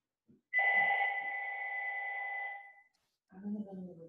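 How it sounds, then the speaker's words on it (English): A telephone rings with one long, steady electronic tone lasting about two seconds, fairly close and clear, followed by a brief voice speaking. "Uh-oh, the phone's ringing."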